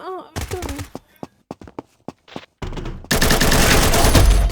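A gun fires in the shooter game Combat Master: a string of separate sharp shots with gaps between them, then a dense, loud burst of rapid fire, mixed with game sounds and a voice at the start.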